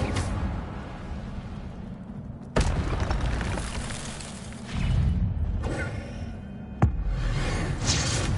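Incendio fire spell cast in Hogwarts Legacy: several bursts of whooshing flame and muffled booms, with a sharp crack near the end, loud and close amid steady game ambience.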